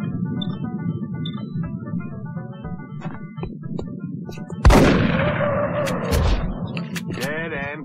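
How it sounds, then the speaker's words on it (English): A shotgun fired at close range in the video game X-COM, a loud sudden blast with a ringing tail, over a constant game music and ambience bed. "Close range for a shotgun."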